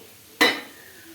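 A single quick scrape and clink of a utensil stirring beetroot and carrot in a cooking pan, short and close, fading into a quiet background.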